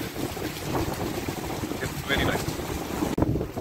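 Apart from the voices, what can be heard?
strong wind in the rain in the Maldives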